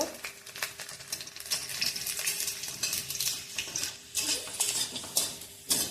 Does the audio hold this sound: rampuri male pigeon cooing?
no